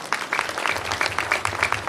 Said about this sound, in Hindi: की जोरदार ताली हो जाए